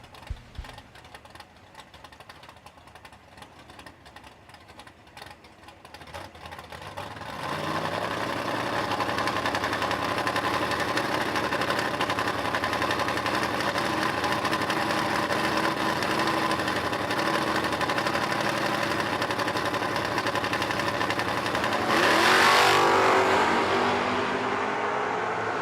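Chevrolet Camaro drag cars idle at the start line of a drag strip, a low rumbling idle joined after several seconds by a louder, steady engine drone that holds, with a brief sharper rev near the end.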